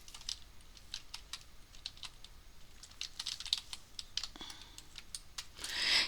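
Typing on a computer keyboard with a steady run of close key clicks, ending in a firmer press of the enter key, with no voices.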